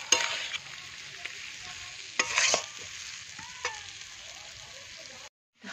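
Potatoes being sautéed in a pan, with a steady sizzle and a few louder scrapes of stirring, close and fairly quiet, ending in a brief silence.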